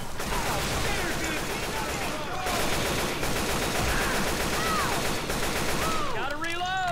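Dense, rapid gunfire from Left 4 Dead 2 crackles almost continuously, with bursts from several weapons overlapping, brief pauses, and game effects and voices mixed in.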